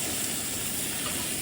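Pork fat sizzles in a pan outdoors beside a river, a dense continuous hissing crackle with the flowing water blended in, steady and fairly loud with no voices.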